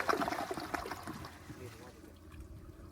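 A Toto Drake toilet flushing with a rush of water that is loudest at the start, then drains and trickles away into a quieter gurgle over a few seconds.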